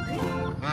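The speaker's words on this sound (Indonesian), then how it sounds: "ini adalah hewan angsa ya" A goose, shown with toy vehicles and animals, gives a loud, close honk that carries through the whole short moment, with no talking over it.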